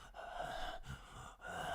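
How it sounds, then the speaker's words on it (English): Heavy breathing from a horror movie, slow drawn-out breaths and gasps at a low level, repeating in a steady rhythm with brief pauses and no talk. "he's over there like he's breathing heavily"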